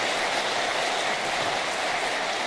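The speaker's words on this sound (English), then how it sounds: "help me thank with a round of applause all of the elected officials and my partners in government" An audience gives a round of applause to elected officials, steady loud clapping filling the room for the whole stretch with no voices over it.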